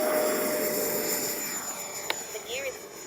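An E-flite 70mm Viper V2 electric ducted-fan RC jet takes off, its high steady whine and airy roar filling the scene and holding loud and constant, heard from close range outdoors.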